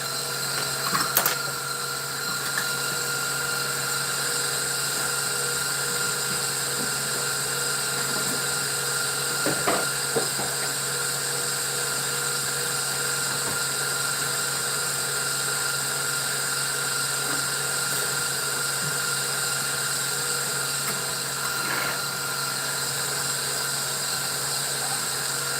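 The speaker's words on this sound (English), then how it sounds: "Give that a mix. Yeah. We're just gonna let this blend for a second." A blender whirs steadily while mixing cheesecake batter with coconut, a loud continuous motor hum with a sharp clank near the start and a few small knocks, close up with no talk.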